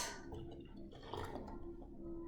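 Liquid poured quickly into an elephant toothpaste experiment, a steady splashing, gurgling pour lasting a couple of seconds, close and moderately loud with no talking.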